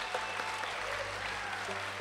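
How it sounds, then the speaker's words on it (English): Steady audience applause at a Transylvania University concert, a dense even wash of clapping with a low hum underneath. "let's have another round of applause for"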